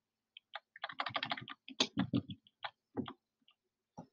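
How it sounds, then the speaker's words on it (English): Quick bursts of keyboard arrow key presses, clicking in clustered runs with short pauses, then a few isolated taps near the end; close and fairly quiet. "I can just use the arrow keys on the keyboard to slide it over"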